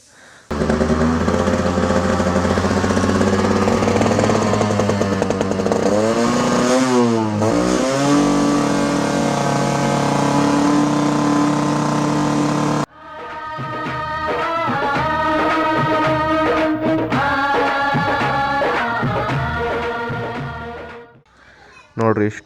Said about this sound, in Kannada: ಈಗ ತೆಗ್ದು ರಿಯಲಾಗಿ ಸ್ಟಾರ್ಟ್ ಮಾಡೋಣ, ಎಷ್ಟು ಕಿಕ್ಕಿಗೆ ಸ್ಟಾರ್ಟ್ ಆಗ್ಬೋದು ಅಂತ